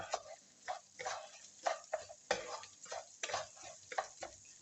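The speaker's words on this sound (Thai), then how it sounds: "ก็ผัดไปเรื่อยๆนะคะผัดไปเรื่อยจนข้าวเราสุก" Rice for risotto is stir-fried in a pan with a spatula, giving repeated scraping strokes over a soft sizzle in an irregular rhythm, close and clear, with no talk.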